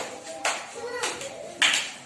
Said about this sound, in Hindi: जो सही बता रहा है उसके ताली बजाइए।